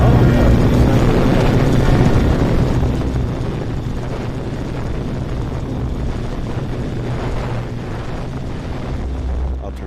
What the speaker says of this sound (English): It sounds like a helicopter.